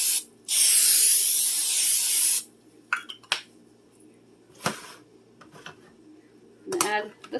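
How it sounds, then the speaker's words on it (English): Cooking spray hisses from an aerosol can into a metal can in a home kitchen, one loud sustained burst of about two seconds, followed by quieter clinks and kitchen handling sounds. "I'm also going to give this can a little bit of a spray."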